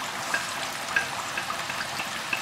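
Sliced garlic sizzling in olive oil in a pan, a soft steady frying hiss with faint scattered pops, quiet and close.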